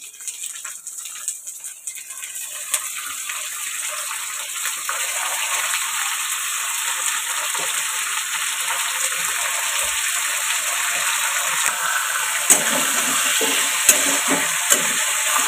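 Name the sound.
meat added to fried onions in a cooking pan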